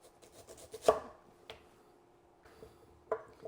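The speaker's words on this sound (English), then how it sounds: "I'm going to make a nice slice that way. I'm going to set the heel of my knife in where I want my slice." Sweet potato being sliced with a kitchen knife on a board, a few distinct crunching cuts and knocks separated by quiet pauses, close and clear with no talking.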